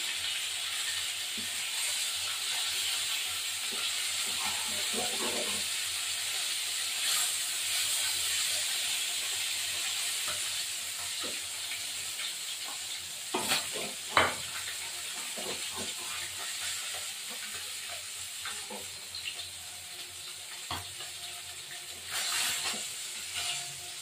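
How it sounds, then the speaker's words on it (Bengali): Spice paste fries in oil left over from cooking fish, giving a constant hissing sizzle over a long stretch with scattered scraping stir strokes and small pops, close and steady without speech. "এই তেলে আমি আর তেল দেব না, মশলাটা কষাবো।"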